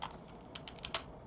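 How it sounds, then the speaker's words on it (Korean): Quick, light keystrokes on a computer keyboard as numbers and Enter are typed, a rapid irregular patter of close, quiet clicks with no talking. "왼쪽 손은 가운데 키보드 가운데 있는 엔터를 클릭하시고 오른쪽 손은 숫자 키패드가 오른쪽에 있으니까"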